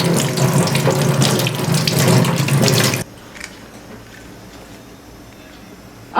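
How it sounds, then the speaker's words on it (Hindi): A kitchen tap runs hard for about three seconds as water is used to wash a money plant and refill its container, loud and close, then cuts off to near quiet. "इसको धो के वापस मैं दूसरा पानी भर दूंगी और इन पत्तों को भी धो के फिर से डाल दूंगी"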